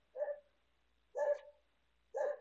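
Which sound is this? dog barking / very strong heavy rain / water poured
dog barking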